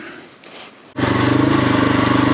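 A KTM motorcycle loaded with full camping gear starts up after a brief quiet stretch and then runs at a steady, loud, close idle with a rapid pulsing beat, out on an easy singletrack trail on an evening ride.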